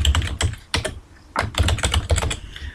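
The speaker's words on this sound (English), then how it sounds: "I can then type my text and use the Tab key to go forward." Typing on a computer keyboard while entering text into a Microsoft Publisher 2010 table, with bursts of rapid close key taps broken by a short pause, no talking.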